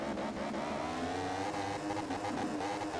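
A motorbike engine in the racing game MotoGP 15 revs continuously under acceleration, a steady buzzing whine rising slightly in pitch, fairly quiet and constant throughout with no speech.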